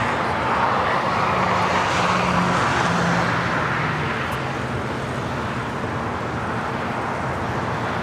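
An airliner takes off on full-length runway 25 right at LAX, a steady broad engine roar holding at a constant distance with faint traffic hum beneath, loud and unbroken throughout.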